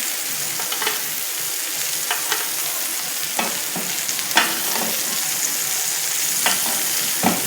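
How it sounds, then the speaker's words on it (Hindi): Vegetables and garlic stir-frying in butter in a pan for a chicken steak with mushroom sauce: a steady, close sizzle broken by scattered scraping and clicking stir strokes, with no talking. "हम इसी में ही हमारी जो वेजिटेबल्स हैं इसे स्टर फ्राई करेंगे।"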